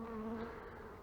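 Bees humming steadily at an opened beehive during a brood check, a close, continuous low buzz that stays fairly quiet and slowly fades.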